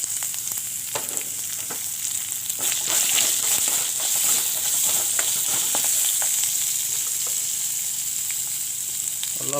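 Sliced onion frying in hot oil with a bay leaf, seeds and dried chilli, giving a steady, close sizzle with small crackles and pops, continuous throughout with no talking.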